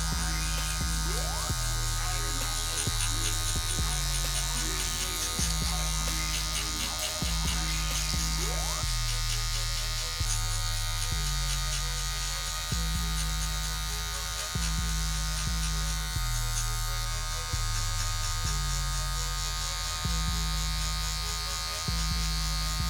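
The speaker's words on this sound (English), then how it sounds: "I will use the number 1 guard, clipper lever open, and go another 1/2 inch width around the whole side of the head" Electric hair clippers fitted with a number 1 guard, lever open, buzz steadily while cutting curly hair around the side of the head for a medium fade. The close, constant drone dips briefly and rhythmically with each pass.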